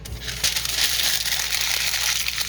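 Faux leather junk journal paper is crumpled up close, a continuous crinkling and crackling for a couple of seconds.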